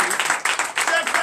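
Brief burst of rhythmic clapping and acclamation during a Sunday church service in Comé, Benin, rising and falling in quick pulses under loud voices.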